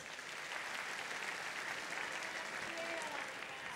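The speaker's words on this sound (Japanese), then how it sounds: "拍手お願いします。" Audience applause at a Tougeki 2005 fighting game tournament, a steady dense wash of clapping from a crowd lasting throughout, fairly distant and even.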